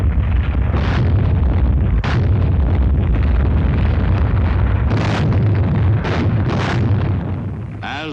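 Naval guns fire on shore installations in a WWII Pacific battle: loud, continuous rumbling bombardment with repeated heavy explosions and booming blasts, rough and distorted as in old film sound.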